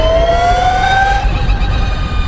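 Electric supercar from China with a swapped motor launching, its motor giving a loud, piercing whine that climbs steadily in pitch for about a second before tapering off.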